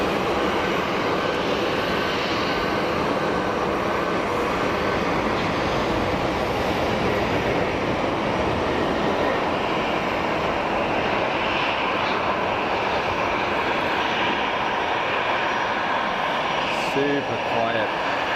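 A powerful, sustained jet engine roar builds and holds as an airliner accelerates down runway 04 at Geneva Airport on takeoff, with a voice briefly audible near the end.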